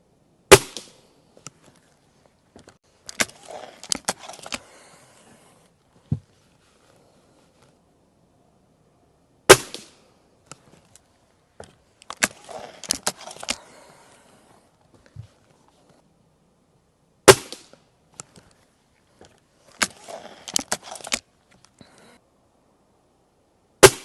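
A Gamo air rifle fires at a target in three separate sharp cracks spread apart, each followed by clattering handling noises of cocking and reloading, close and otherwise quiet between.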